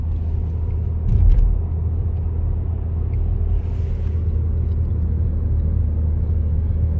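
A car cruises steadily at about 50 km/h during a driving lesson, a constant low engine rumble and road drone from inside the cabin, with one brief bump early on.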